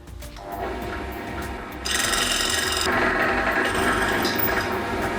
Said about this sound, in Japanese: まずは小さい穴を開けていきます